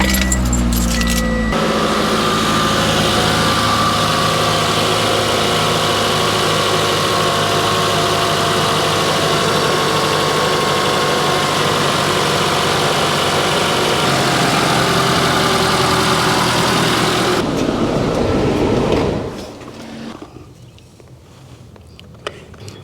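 A Toyota RAV4 engine idles steadily and loudly just after a new serpentine belt and tensioner are fitted, a constant running hum for about nineteen seconds before it drops away into quiet workshop noise.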